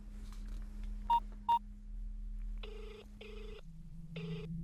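A telephone keypad is dialed, giving two short electronic tones followed by several longer rings of the line, all over a steady low hum, with no talking.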